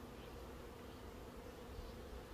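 Dense, steady buzzing of many honeybees swarming around beehive frames, close and continuous with no voices.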